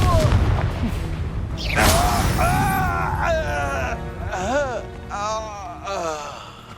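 An explosive Confringo spell blast in Hogwarts Legacy booms at the start, followed by a crash and scattered shouts and groans from characters in combat, with voices continuing over rumbling after-effects.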